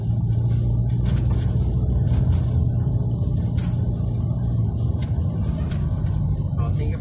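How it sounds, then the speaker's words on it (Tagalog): Steady road traffic rolls along Katipunan Avenue on a Friday afternoon, a continuous dense rumble of cars and engines close by with no gaps, loud and unbroken throughout. "traffic update yan, Katipunan Avenue"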